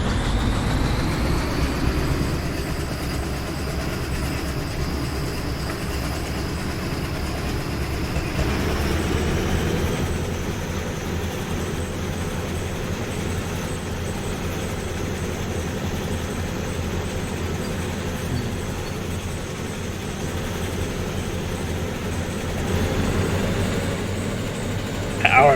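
A big diesel locomotive in the Derail Valley train game throttles up, its deep engine rumble droning continuously and shifting pitch partway through, with a rising whine over the steady low roar.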